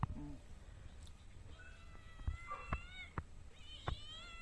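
A cat meows repeatedly while waiting to be given fish, its cries rising and falling in short bursts, fairly close and clear over a quiet room.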